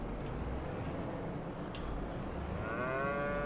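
Cattle in the Farming Simulator 25 game moo once near the end, a single drawn-out low bellow rising over a quiet ambient farm background.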